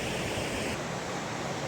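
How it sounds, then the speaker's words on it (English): A small waterfall and rapids on a stream in the rolling Peak District hills give a steady, full rushing of water, close and constant throughout. "There's another little watery bit, little waterfall kind of thing, little rapids."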